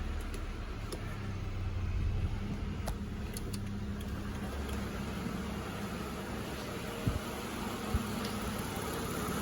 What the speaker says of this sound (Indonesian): Mesinnya sih cukup halus ya bunyinya